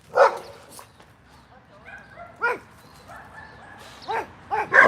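Several dogs barking and yipping in sharp, irregular bursts, some near and loud, others fainter, with whimpering between barks.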